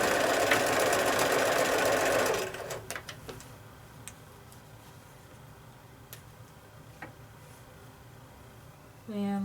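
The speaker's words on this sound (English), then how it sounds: "You might want to even lift your presser foot a little bit to kind of get it up on top of that bulky seam allowance and stitch down" A sewing machine runs steadily while stitching a quilt block seam over a bulky seam allowance, a loud continuous whir for about two seconds, then stopping, leaving faint clicks and handling noises.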